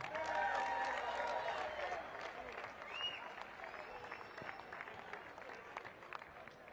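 Faint crowd applause and cheering at an outdoor 3-on-3 basketball championship, scattered clapping spread across a large open space with a voice over a loudspeaker early on.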